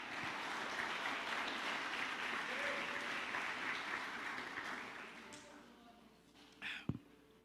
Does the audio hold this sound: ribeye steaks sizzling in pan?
no